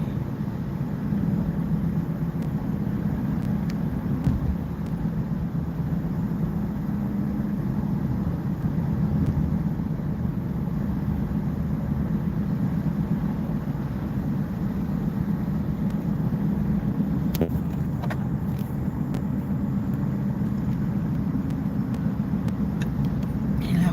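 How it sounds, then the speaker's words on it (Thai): Military vehicle driving fast, a steady low engine rumble and road roar that holds for the whole stretch, moderately loud with a few faint clicks and knocks late on. "รถทหารขับเร็วมากเลย"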